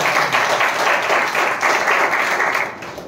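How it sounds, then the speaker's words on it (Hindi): Congregation at a Hindi church service claps hands together loudly and steadily, a dense wash of many hands in a roughly even rhythm, tapering slightly at the end, with no speech over it. "ताली बजा के"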